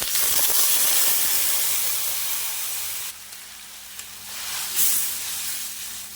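Water poured into a hot pan holding fried chilies and yam, giving a loud hissing burst of steam and sizzle that gradually settles into a softer bubbling simmer, with no talking.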